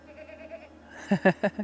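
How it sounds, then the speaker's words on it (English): A goat bleats nearby in the Swiss Alps, a short wavering call breaking into a few quick pulses at the end, fairly quiet. "Goat saying hello."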